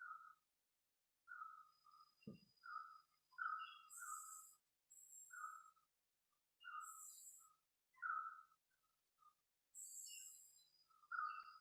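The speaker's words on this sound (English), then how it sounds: "I can hear the chirping of the birds" Several birds chirp and whistle in short, separate bursts against a quiet background, with one higher, faster call joining in intermittently.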